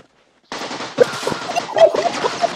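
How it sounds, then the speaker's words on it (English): Assault rifle gunfire from the film Heartbreak Ridge bursts in loud after a moment of silence, a rapid automatic string of shots that keeps rattling to the end. "An assault rifle, the preferred weapon of your enemy."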